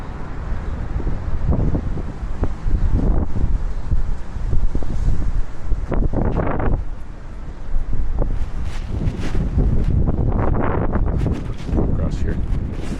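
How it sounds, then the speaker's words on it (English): Strong wind outdoors in a town, a constant loud roar buffeting the microphone with gusty swells throughout, with a person speaking under the noise. "It's so windy out here. It's always so windy in this town."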